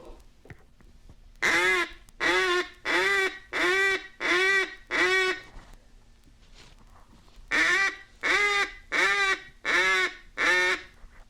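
A mallard duck call blown without a cupped hand as a bell mouth gives two runs of loud, evenly spaced quacks with a flat, tinny, unvarying tone, six then six, separated by a short pause.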